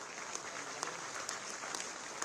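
Applause from an audience at a Lucknow civic event honouring sanitation workers receiving safety kits: fairly quiet, distant steady clapping with a few sharper individual claps standing out.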